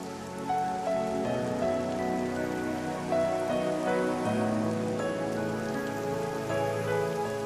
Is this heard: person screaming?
no